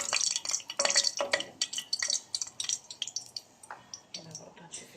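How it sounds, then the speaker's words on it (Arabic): Okra and meat with tail fat are stirred in a pan, giving a sequence of close, sharp scraping and clinking spoon strokes against metal with soft sizzling between them, no talking. "بس كده ان انا اقلب فيها"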